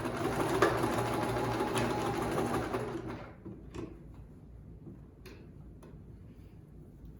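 A sewing machine stitches along the 7-inch side of a homemade fabric mask, running steadily and close for about three seconds before stopping, followed by a few faint ticks and clicks.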